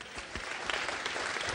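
An audience at a political party convention applauds, a steady, soft wash of clapping from a crowd.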